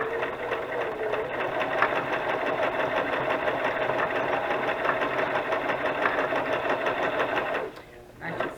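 A sewing machine runs a zigzag stitch on burlap and lace, a steady close mechanical whir that hums without a break for about eight seconds before stopping.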